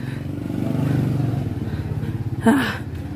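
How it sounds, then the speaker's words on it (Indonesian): A motorcycle engine putters along at a steady, throbbing idle-to-cruise pace near a cattle farm, close and fairly loud, with a brief clatter or voice-like burst near the end. "Wah, enak banget numpak motor."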